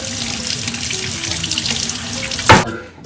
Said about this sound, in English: I would advise you running them underwater real quick just to kind of clean them off